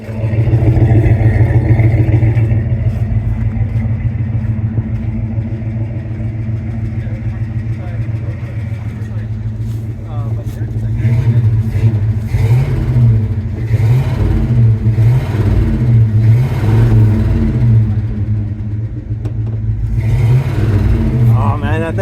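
A 1968 Ford F250 engine that sat for three years runs loudly close by with a steady rumbling idle, then rises in several revving swells, while people talk over it.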